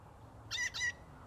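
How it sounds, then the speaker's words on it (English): Two quick, harsh squawking calls from a bird, close together and fairly faint, over a quiet outdoor background. "That is a particular bird."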